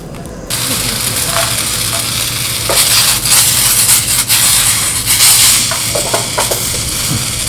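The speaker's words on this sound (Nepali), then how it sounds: "अब हामी गोलबाट अचारको लागि ग्रिल गर्छौँ" Ingredients for buff choila pickle grilling, a loud close sizzle with stirring and scraping that starts abruptly and swells in bursts, no talk.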